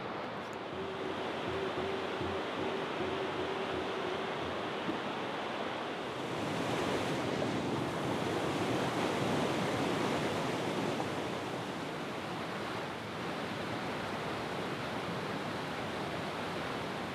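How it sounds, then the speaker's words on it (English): Njupeskär waterfall, a huge frozen waterfall in Swedish sandstone mountains, roars as a steady, broad rush of falling water, continuous and fairly loud, with gusts of wind swelling over it midway. "formed these huge waterfalls we see today"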